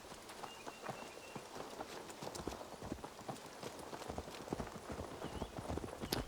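Rapid rhythmic hoofbeats of a horse galloping in the video game Assassin's Creed Valhalla, steady and close, over a dense noisy backdrop.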